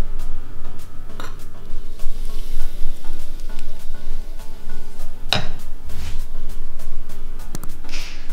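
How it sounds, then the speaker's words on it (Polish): Eggs frying in margarine in a pan, a soft continuous sizzle under clinks of utensils against cookware, with a few sharp scraping knocks and clatters near the end. "To najpierw smażymy naturalne. Ja zawsze smażę na margarynie po prostu."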